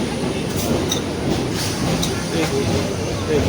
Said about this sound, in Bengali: যে ট্রেন চলে এসছে এই ট্রেনটা আর মিস করা যাবে না